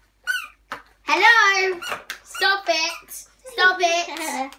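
Squeaky cow toy squeezed repeatedly, producing a run of bright, wavering squeaks in several long bursts, close and loud with short gaps between.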